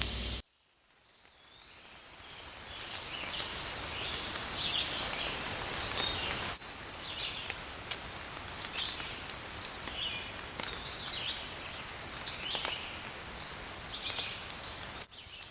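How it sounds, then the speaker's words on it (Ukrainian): Rain falls steadily in an autumn forest, a soft continuous hiss with scattered drips and rustles, while small birds chirp intermittently in the background throughout. "Так, шумить дощик, а ще співають пташки."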